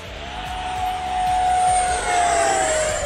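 An FMS Futura 80mm RC jet with electric ducted fan flies past in a knife-edge pass, a loud steady high whine that swells and slowly drops in pitch as it goes by, with no talking.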